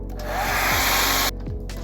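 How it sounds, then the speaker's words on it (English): A loud hair dryer blows with a steady whine and airy roar, drying a watercolor painting, cutting off abruptly near the end, leaving brief quiet. "So since I'm very impatient, I use my hairdryer."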